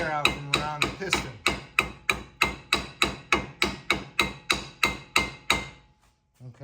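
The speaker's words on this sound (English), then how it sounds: "what I'm going to do is smack it with a hammer" A hammer strikes a brake caliper on a 2015 Jeep Wrangler Unlimited sharply over and over, about fifteen evenly spaced ringing blows, loud and close, ending in a brief quiet.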